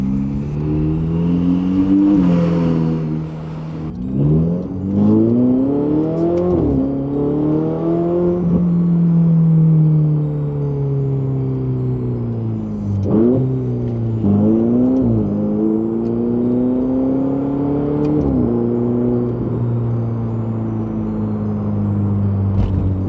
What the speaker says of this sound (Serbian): Kako se čuje, ja ću reći ovo još milion puta, ali auto, takav bolestan zvuk, takva perverzija.